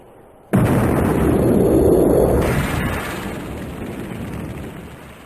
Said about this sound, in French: C'est une bombe à compression. On l'utilise pour les puits de pétrole.